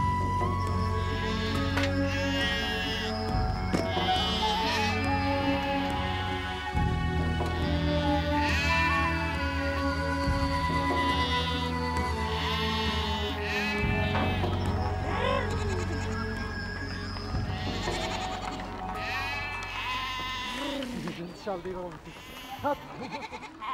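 Goats and sheep in a herd on the Altai steppe with Kazakh eagle trainers, bleats rising over continuous loud music and a narrating voice.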